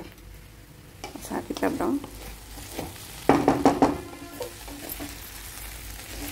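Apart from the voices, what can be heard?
okra curry frying in a pan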